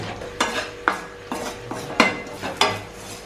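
A spoon scrapes and clatters against a pan while grated medium-size coconut dry-roasts for a koorkka curry, in about six distinct, unevenly spaced strokes, close and fairly loud, with no talking.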